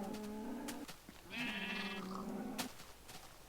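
Baby sheep in Minecraft bleat in short wavering cries, about three separate calls spread over a few seconds, loud and close against a quiet game background.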